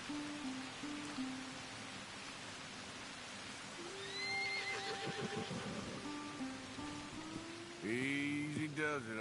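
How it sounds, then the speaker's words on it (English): A horse in the Western video game Red Dead Redemption 2 gives several whinnies and snorts, the loudest call coming near the end, over a steady rain-like hiss and soft hoof sounds. "I believe that's a unique type of horse."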